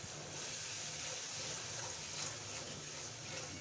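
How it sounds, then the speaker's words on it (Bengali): A ginger, garlic and cumin paste fries in oil with a steady, soft sizzle and a hiss that never changes, continuous and fairly faint throughout. "মশলাটাকে কষিয়ে নিচ্ছি।"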